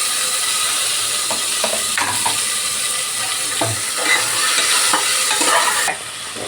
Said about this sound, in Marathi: हलवून घेऊया थोडंसं आणि हे टमाटोही आपण असं टाकून घेऊया।